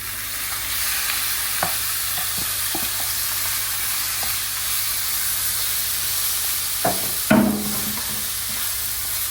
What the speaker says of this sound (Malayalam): ഉള്ളി നല്ല ബ്രൗൺ ആയി വന്നിട്ടുണ്ട്. ഇനിയിപ്പോൾ നമുക്ക് ചിക്കനും ഇട്ട് കൊടുക്കാം.